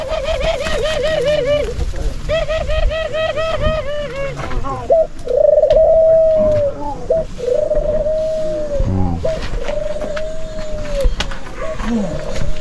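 Barbary doves coo repeatedly in rolling, throaty phrases close by, with several overlapping calls and bits of background voices and other noise in an outdoor yard in Jamaica.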